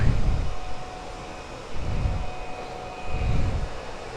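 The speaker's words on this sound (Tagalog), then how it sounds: "Ang ingay ng fan niya." A Kawasaki Ninja ZX-4RR cooling fan gives a steady loud mechanical whir with a faint tonal whine, pulsing in low rumbling surges roughly every second and a half.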